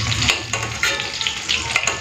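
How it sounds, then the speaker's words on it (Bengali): An egg frying lightly in hot oil in a home kitchen, a steady crackling sizzle with small popping bursts throughout, close and fairly loud with no talking. "ডিমটা পুরো হালকা করে ভেজে নিয়েছি,"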